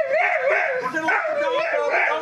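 A hunting dog in blackberry brush during a chukar hunt along the Snake River gives a continuous, wavering whine and yelp, close and fairly loud for about two seconds.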